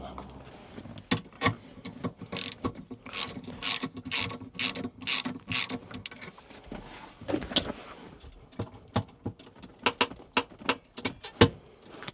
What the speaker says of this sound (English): So let's loosen that off a bit